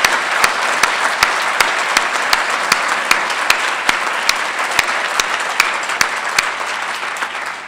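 Steady applause from a large audience at a city's State of the City address, dense clapping with sharp individual claps standing out, sustained loud throughout with no talk over it.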